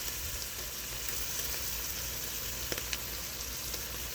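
Onions fry in a pan with a steady, even sizzle and hiss, close and moderate in level, with a few faint clicks of a spoon and no talking.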